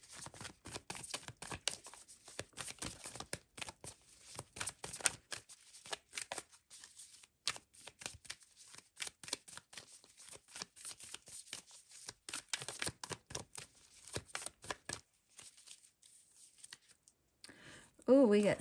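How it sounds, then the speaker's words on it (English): A deck of tarot cards is shuffled over and over, giving a long run of crisp, papery riffles and rustles in quick irregular bursts, close up and fairly quiet, with brief pauses between handfuls. "Let's go ahead and shuffle for Libra, please, for self-care oracle for February."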